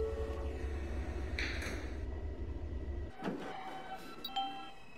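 Subway train doors on an R160 L train close in the Roblox video game. A steady low rumble cuts off abruptly, followed by a short hiss, a thud and faint chimes.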